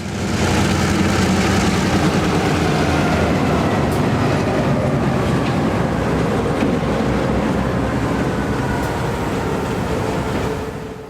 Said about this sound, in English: the Southern steam locomotive continues to serve the South in Knoxville